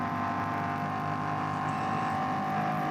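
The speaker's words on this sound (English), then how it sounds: "engine noise is about 2 seconds ahead of picture" A race car engine drones steadily at the Nürburgring endurance race, a distant sustained whine with faint tonal harmonics, fairly quiet and unchanging with no voices.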